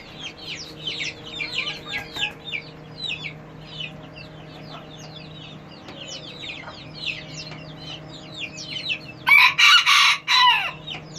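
A tiny rooster with an oversized tail crows amid rapid, bright chirping from other birds, ending with a sudden loud burst of calls near the close.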